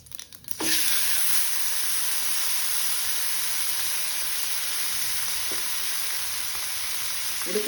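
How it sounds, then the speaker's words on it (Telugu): Steady, continuous sizzle of boiled cabbage and a spice tempering frying in a pan, an even hissing crackle that starts abruptly and holds throughout without voices. "బ్రౌన్ కలర్ వచ్చేంత వరకు ఫ్రై చేసుకోవాలా."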